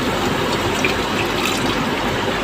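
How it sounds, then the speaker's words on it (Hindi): A glass of water is poured into a pan of aloo matar curry, giving a steady, continuous splashing gush at close range, with no talking. "तो मैं इसके अंदर ये 1 गिलास भर के पानी डालूँगी।"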